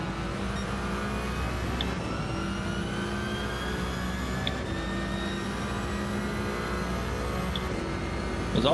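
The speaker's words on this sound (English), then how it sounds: "Oh, the 9X8 coming in pretty quick." The Peugeot 9X8 race car in Gran Turismo 7 gives a steady, droning engine hum that holds on evenly at moderate loudness, with no voices over it.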